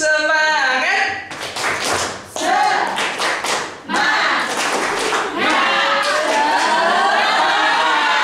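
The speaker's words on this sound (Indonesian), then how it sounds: "Coba tepuk semangat." A group of children does a rhythmic spirit clap (tepuk semangat) at an Islamic storytelling session: bursts of clapping in a patterned beat mixed with chanting voices, loud and close, following a sung or spoken lead-in.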